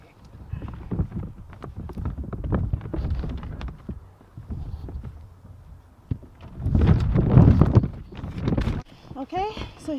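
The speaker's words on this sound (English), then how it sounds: "I know it's very noisy because it's super windy out today." Strong outdoor wind buffets the microphone in loud, irregular low rumbling gusts during garden work covering potatoes with soil, with a person talking throughout.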